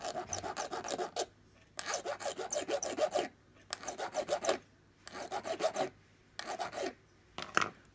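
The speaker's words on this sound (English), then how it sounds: "I think I'll just file a bit off now and do that" A hand file rasps metal after riveting in a workshop, in five or six bursts of close, gritty back-and-forth strokes separated by short pauses, with no one talking.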